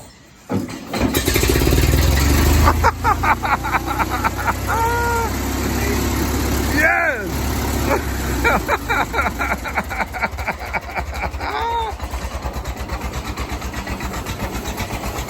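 A 103-year-old Dodge car engine cranks, catches and settles into a loud, steady idle with uneven pulsing, and a couple of brief voices come through over the running engine.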